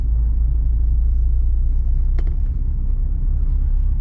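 Inside a manual transmission car driving around an empty mall parking lot, a steady, loud low engine rumble with a brief click near the middle, no talking.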